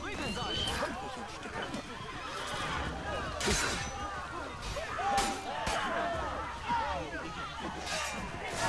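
Horse neighing in the video game Assassin's Creed Brotherhood, several whinnies rising and falling over busy game ambience with hoof-like thumps, all under someone talking.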